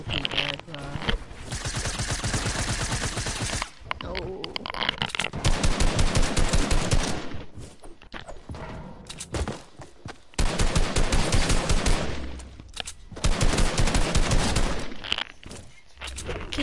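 Video game gunfire comes in long rapid automatic bursts separated by short pauses, loud and close, with brief quieter gaps between volleys.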